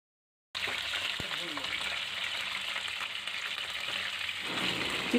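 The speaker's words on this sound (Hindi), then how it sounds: "जैसे ही हमारा तेल गरम हो जाएगा हम इसमें ये क्रश किया हुआ साबुत धनिया डाल देंगे।" Crushed whole coriander seeds hit hot oil with a sudden steady sizzle that continues evenly and briskly, with a brief stir partway through and no speech.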